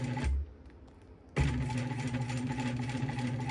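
A sewing machine runs in a steady mechanical hum as it stitches through layered quilt fabric, starting briefly, pausing, then running continuously and close at moderate loudness.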